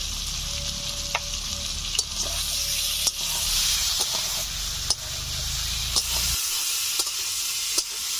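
Ginger, cumin, coriander and dried chilli paste with salt and turmeric frying in hot oil in a pan for a Bengali koi fish curry, a steady loud sizzle broken by regular scraping clicks of a spatula stirring, easing slightly near the end.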